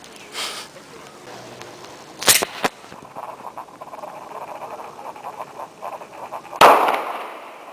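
Two sharp gunshots crack out, one after the other, as rounds are fired at an armor plate in a test, with faint voices and a low murmur of activity between them.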